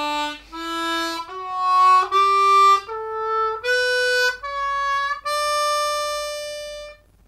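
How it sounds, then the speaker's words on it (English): Harmonica played slowly up a full major scale, including draw bends: eight clear, sustained reedy notes rising step by step, each held about a second, solo and close with no voices. "we can fill in the two missing notes as well to get the full major scale"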